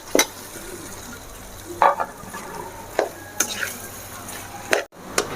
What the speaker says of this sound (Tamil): இப்போ இந்த சாதத்தை இதில் கொட்டிக்கலாம்.